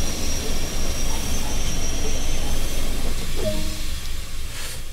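A train brakes hard on the Tees Valley Line in Train Sim World 2, with a loud continuous rumble and hiss of rolling stock and a short squeal late on.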